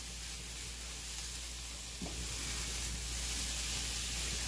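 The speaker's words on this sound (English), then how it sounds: "I'm just going to caramelize these onions really, really well until they get nice and sweet" Onions slowly caramelizing in a pan for a steak and onions meal give off a steady, soft sizzle and hiss that stays even throughout, with one brief stir or scrape partway through.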